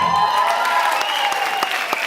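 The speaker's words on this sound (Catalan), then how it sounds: "Un aplaudiment, moltes felicitats." Audience applause at an awards ceremony, dense and steady, with music tones ringing underneath and sounding close and full throughout.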